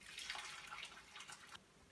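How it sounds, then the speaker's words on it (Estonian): Hot water is poured from above into a pot of cabbage leaves. It makes a steady, close, splashing gush that stops abruptly near the end. "ja vala peale kuum vesi."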